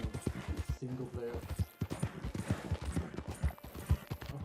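Horse hooves clip-clop at a steady trot in the Red Dead Redemption 2 online game, near and fairly loud, running under continuous talk.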